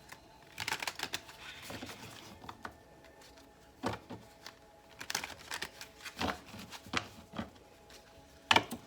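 Tarot cards being shuffled and handled, producing irregular bursts of papery riffling and tapping clicks, close and fairly quiet, with no speech.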